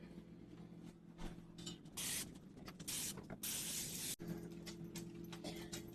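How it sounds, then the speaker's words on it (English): Several short hissing bursts of aerosol cooking spray onto a muffin tin, close by, with quiet clattering and handling noises between them. "Spray your muffin tin."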